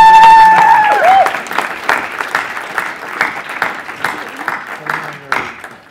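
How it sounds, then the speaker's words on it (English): Steady applause from a crowd at a graduation ceremony fills the room, with a voice and a brief tonal sound near the start. "a big round of applause"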